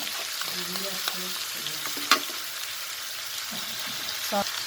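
Ivy gourd palya fries in a pan with salt, chilli, jaggery, mustard seeds and tamarind juice, making a loud, continuous sizzle broken by stirring scrapes and clinks, with a faint voice at times.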